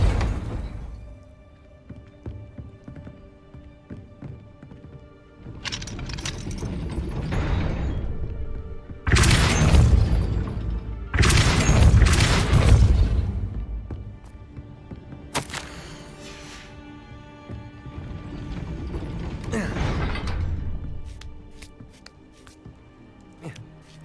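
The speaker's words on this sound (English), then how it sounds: "That looks as if it might raise the gate. Depulso!" A gate raised by a spell in the video game Hogwarts Legacy, heard as several long, loud surges of rumbling, crashing magic and heavy mechanical grinding separated by quieter pauses, over low game ambience.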